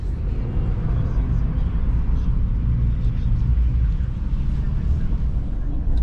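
A Jeep in limp mode cruises at road speed, a steady, loud low rumble of engine, tires and wind noise throughout, with a person talking over it.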